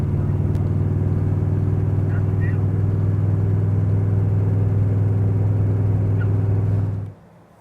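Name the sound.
1967 big block Chevrolet Corvette engine running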